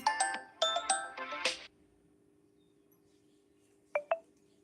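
A phone keypad being dialed: a quick run of several tonal beeps, then a steady dial tone hums for about two seconds, followed by two more short beeps; close and fairly clear, with no talking.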